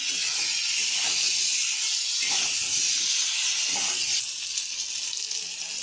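Eggplant pieces fry in a hot pan with turmeric and salt, making a loud, continuous close sizzle and hiss with faint stirring movements underneath.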